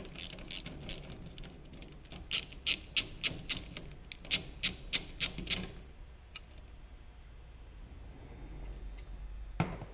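A ratchet turns the nut off a garage door opener pulley in quick rhythmic clicking bursts, close and clear, then stops and leaves faint handling noise and a final metallic clink.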